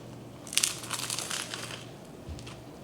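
A crispy burger patty pressed down, giving a short burst of crunching and crackling that fades over a couple of seconds, close and moderately loud.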